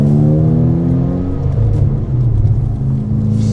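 A Rossion Q1 sports car engine revs up loudly with a deep, rumbling growl, then the revs hang and settle into a steady rough idle, close and continuous.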